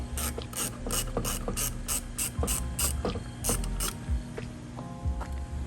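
A ratchet removes bolts from trim pieces on a Lexus IS300, giving rapid, close, repeated ratcheting clicks in quick strokes over a low background hum.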